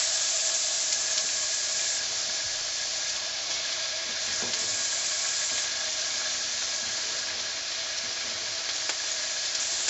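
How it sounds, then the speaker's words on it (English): Peppers fry with yams in a pan for a vegan stir fry, making a steady, even sizzle and hiss that carries on without a break for about ten seconds, with only faint shifts in texture and no talking. "I'm also going to add in the peppers"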